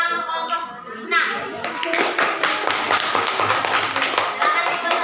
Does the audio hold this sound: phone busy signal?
no